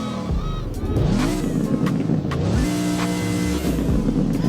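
A 2010 Zenvo ST1 supercar engine revs hard several times, pitch climbing and falling in quick blips, loud and close with no talking.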